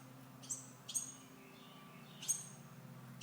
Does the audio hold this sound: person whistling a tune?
no